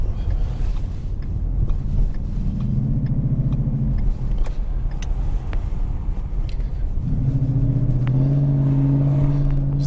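A car drives along town streets with a steady low engine rumble and road noise inside the cabin, the engine rising in tone twice as it accelerates, with no talking.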